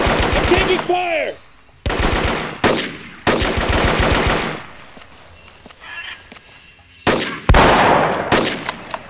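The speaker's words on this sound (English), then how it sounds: "Enemy spotted. Taking fire!" Gunfire from the jungle warfare video game Marine Sharpshooter II: loud bursts of automatic fire come in several clusters, with brief quieter gaps between them and a short voice passage near the start.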